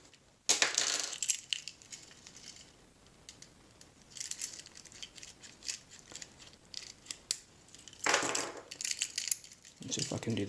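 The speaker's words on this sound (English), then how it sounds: "I'll pull the keys off, put them all onto here" Metal keys being worked onto an Orbitkey leather key organizer, with scraping, clicking and jingling in bursts of varying loudness close up, no talk.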